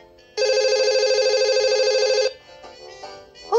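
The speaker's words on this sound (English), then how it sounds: "Olivia used a phone to call Julian" A toy-like telephone ring from a VTech Storio reading game plays as a steady electronic trill for about two seconds, loud and alone, followed by faint quieter sounds.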